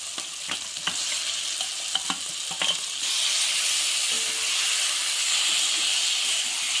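Potato and pumpkin pieces hit hot spiced oil in a pan for a Bengali aloo kumro dum, setting off a few sharp clatters followed by a steady, loud, continuous sizzle with no voices.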